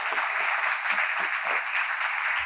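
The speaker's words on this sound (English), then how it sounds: "Let's give them a big round of applause" Applause from a conference audience after a panel discussion, a steady wash of dense clapping, loud and continuous with no voices.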